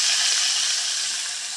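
Loud, steady sizzling from fish frying in hot oil in a pan, a close, bright hiss that fades slightly toward the end.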